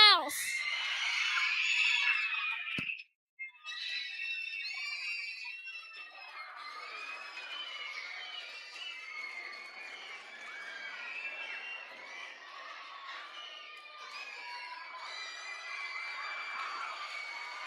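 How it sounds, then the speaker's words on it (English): Middle-school students at a school literacy event scream and cheer loudly as a crowd, a sustained high-pitched roar that briefly cuts out, then continues as steady shouting and applause. "I want you to give your loudest scream and loudest applause."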